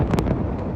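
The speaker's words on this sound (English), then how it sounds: "explosions thundered across the occupied West Bank this weekend as Israeli forces set off controlled demolitions" Distant explosions from controlled demolitions in the occupied West Bank come as a sharp cluster of quick, booming pops at the start, then fade into a dull rumbling tail.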